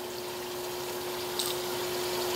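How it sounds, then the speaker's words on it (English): Water pours steadily onto a Wowtac A3 LED flashlight in a torture test, a constant splashing gush with a faint pump-like hum beneath and a brief brighter splash midway, with no talk. "I mean, it's just raining down on this flashlight"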